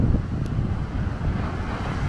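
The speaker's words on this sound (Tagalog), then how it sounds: "malakas talaga yung hangin tsaka yung alon." Heavy wind rumbles against the microphone while ocean waves wash steadily underneath at a beach in Catanduanes, Philippines, a continuous loud outdoor roar with no voices.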